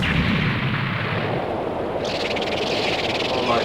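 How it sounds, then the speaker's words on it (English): A game explosion from Vampire Hunter D bursts as a loud, dense roar of noise that rumbles continuously and shifts in tone midway, filling the whole clip without a break. "That explosion!"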